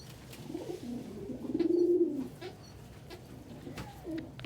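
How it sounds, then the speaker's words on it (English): Pet pigeons or doves perched on a person give soft, low cooing, one rounder coo swelling near the middle, with faint rustling around it and no talk. "I perpetually have a parade of 5 to 7 birds on me"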